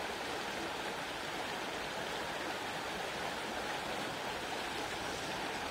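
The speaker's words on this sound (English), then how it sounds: "the sound of the water" Along a river in the Vale of Clwyd, stream water flows in a constant, even rush, a dense close wash of sound with no pauses or voices.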